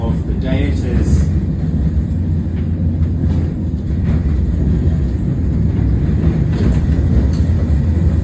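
Steady low rumble of a tram riding along the street near the Auckland Fish Market, continuous rolling and motor hum with faint clanks, while a person talks over it.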